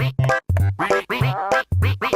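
A cartoon duck quacks in a quick series of loud, nasal bursts with short gaps between them, close and clear with nothing else behind it.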